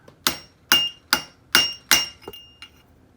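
A punch is struck with a hammer while peening a part on a Honda 400ex ATV. About seven sharp metallic taps ring out at a steady rhythm, close and distinct, with the last few lighter, and no one speaks.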